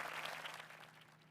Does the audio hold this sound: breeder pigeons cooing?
no